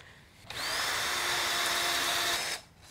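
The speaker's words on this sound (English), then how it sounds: "going to drill right through the mold" A power drill whirs steadily for about two seconds, drilling through a mold, starting and stopping abruptly, close by with no talking.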